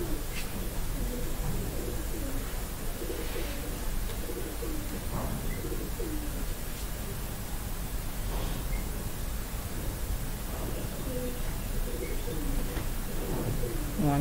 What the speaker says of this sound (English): sounds from my tenants upstairs, some birds.